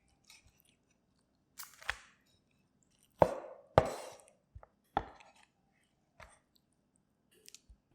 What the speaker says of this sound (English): Chop the thigh in half.